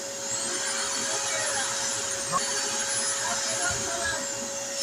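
An air compressor powered by a 6000 W inverter runs steadily and loudly throughout, a continuous whirring drone with a constant electrical hum beneath it and no pauses.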